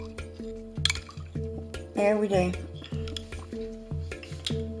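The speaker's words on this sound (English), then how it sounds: "And then you just want to stir it to make sure, because my water's hot but not boiling hot." A spoon stirs a bouillon cube into hot but not boiling water for gravy, giving soft liquid swirls and light clinks against the container while someone talks over it.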